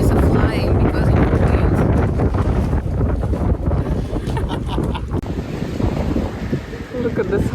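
Gusty wind buffets a rainy Paris café terrace, loud and continuous with broad roaring rumble that swells and eases throughout, blowing ashtrays and menus around under an umbrella.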